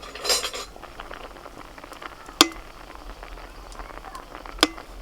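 A metal spatula stirs radishes boiling in a pot. Soft, continuous bubbling and faint shuffling are broken by two sharp, separate clinks against the pot, heard close.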